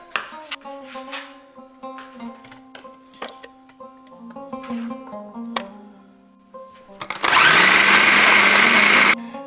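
A food processor whirs up loud and steady near the end while fresh ginger and garlic are grated, after a stretch of clattering kitchen handling and light tapping sounds.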